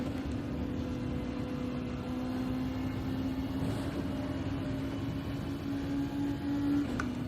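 A race car engine in a racing video game drones faintly and steadily, its tone shifting slightly in pitch a few times as gears change. The hum stays low and even throughout, with no talking.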